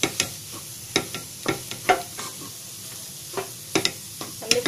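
A spoon stirs garam masala into amaltas flower curry in a pan, giving repeated scraping knocks in an irregular rhythm over a steady frying sizzle, close and fairly loud.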